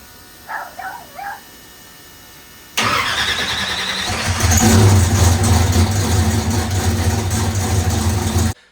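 A vehicle engine on a cold lithium battery cranks briefly and catches, settling into a loud, steady idle close by after a few faint knocks.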